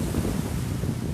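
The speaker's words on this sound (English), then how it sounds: "I'm sorry if you can't hear me because it's kind of windy." Steady, blustery wind buffets the microphone outdoors on the shore of Lake Simcoe, with a low rumble of lapping waves underneath; no voices.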